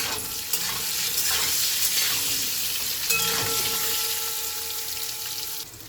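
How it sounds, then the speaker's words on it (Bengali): Salted, turmeric and chili-powder-coated eggplant frying in hot oil, a continuous close sizzle and crackle with occasional stirring scrapes. "তো চলুন আমি বেগুনটাকে লাল লাল করে ভেজে নেবো।"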